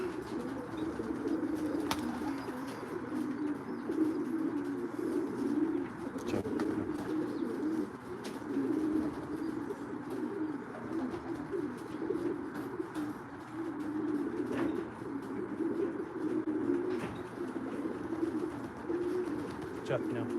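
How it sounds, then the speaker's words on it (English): Racing pigeons coo steadily in a loft, a continuous layered murmur of calls with occasional wing flutters and faint clicks, heard close and unbroken for the whole stretch. "we could just sit here and watch the birds if you like"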